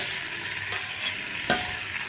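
Steady, close sizzle of potato, eggplant and green banana frying in a pan, with a couple of brief scraping stirs cutting through the hiss.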